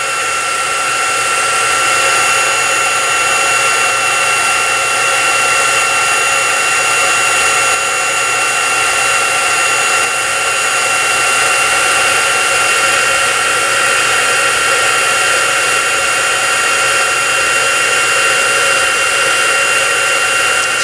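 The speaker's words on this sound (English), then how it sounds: "it'll take the heat tool just a second to warm up. And then once it gets good and warm, it'll start melting that" An embossing heat tool blows hot air to melt embossing powder on a stencilled card, giving a loud, steady, even whoosh with a faint whine that holds unbroken throughout, with no talk over it.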